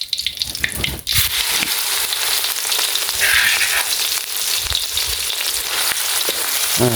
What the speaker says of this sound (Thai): มาผัดพริกแกงกันก่อนเลยครับ